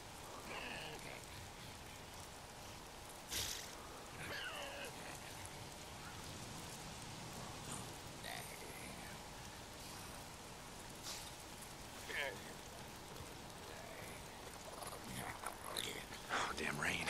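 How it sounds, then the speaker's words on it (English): Rain in the game Days Gone falls as a steady, soft hiss of droplets throughout, with a few faint footstep-like taps and occasional low murmuring under it. "It's the goddamn rain. Why is it always raining?"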